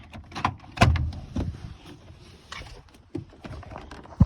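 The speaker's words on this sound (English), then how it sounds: "Okay, let's open the door." A door being opened by hand, its latch worked with a few clunks and rattles at close range, with scattered knocks and a quiet pause in between.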